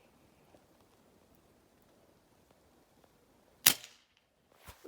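A gun being fired outdoors, one sharp loud shot after a quiet stretch, followed by a second sharp report near the end, with faint background noise between.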